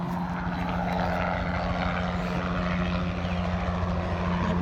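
A helicopter passes overhead outdoors, a steady droning rotor and engine roar that stays fairly loud throughout with no talking.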